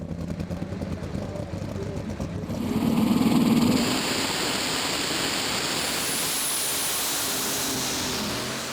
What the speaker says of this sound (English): Can he coax his 106 International engine to over 102 metres?